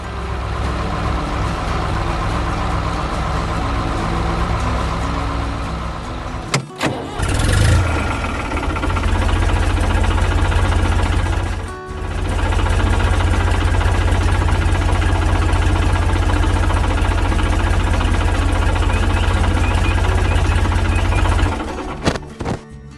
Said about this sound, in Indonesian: tiba-tiba terdengar suara mesin yang menari-nari